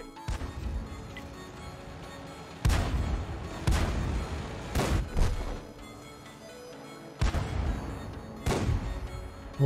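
Several heavy booming tank cannon blasts in World of Tanks with crashing impacts, loud and close, spaced irregularly over a low rumbling game backdrop.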